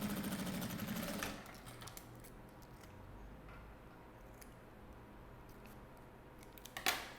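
A sewing machine stitches fabric for a flapped hygiene kit, running in a loud steady burst at the start, then quiet handling noises with a few small clicks, and a brief second run near the end.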